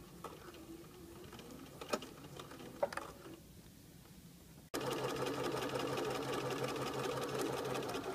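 A sewing machine stitches a dart in fabric, starting with a backstitch; soft mechanical clicks and handling come first, then the motor runs loud and steady with a continuous whirring hum for the last few seconds.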